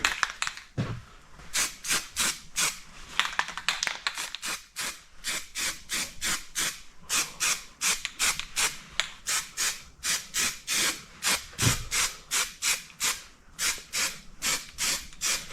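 Short, rapid hissing bursts of 3-in-1 gray etch primer are sprayed in a regular rhythm onto the swingarm of a 1983 Yamaha IT 175 motorcycle, close and fairly loud, with no voices.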